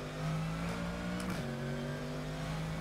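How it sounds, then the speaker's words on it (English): Interior engine sound of a GT3 race car in rFactor 2: a steady droning tone that drops in pitch at a shift and then continues evenly, close and constant with no talk. "I think they made some minor improvements to the interior sound of this car"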